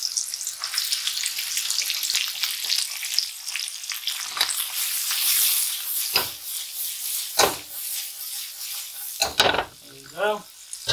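Baby carrot and onion drop into a sizzling pork stir-fry with ginger and spring onion, a loud continuous frying hiss broken by several sharp bursts and scraping stirs up close.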